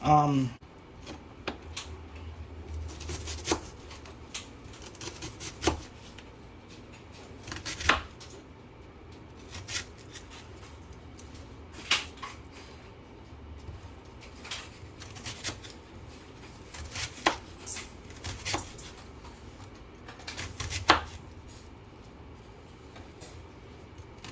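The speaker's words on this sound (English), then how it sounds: "we're gonna chop up this whole onion." A whole onion chopped with a knife on a cutting board: repeated sharp knocks at an uneven, unhurried pace over a quiet room, with people talking at times.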